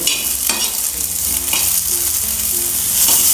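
Fresh pigeon pea (tur) grains roast in oil in a small ladle, making a close, steady sizzle with soft rhythmic stirring scrapes recurring about every half second.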